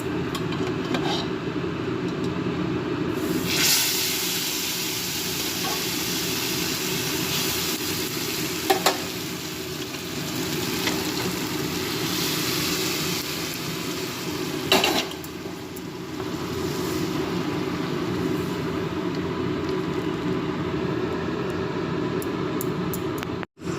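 Black cumin seeds and dried red chillies sizzle steadily in hot oil for a Bengali dal tempering, a dense continuous frying hiss with occasional stirring clinks and scrapes, close and alone without talk.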